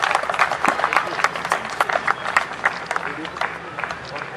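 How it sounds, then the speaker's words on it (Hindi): A gathered audience applauds loudly to honor a martyr's family, with dense, rapid clapping that continues steadily throughout and voices mixed in. "आइए हम जोरदार तालियों से इनका अभिनंदन करें"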